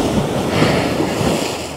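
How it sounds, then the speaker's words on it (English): Ocean surf splashes on Eagle Beach with a steady, loud wash of water and wind rush, a continuous near roar with no voices. "that's a nice splash"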